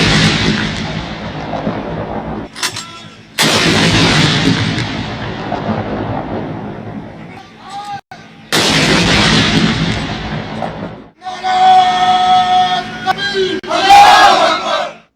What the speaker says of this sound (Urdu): 21 توپوں کی سلامی دی گئی۔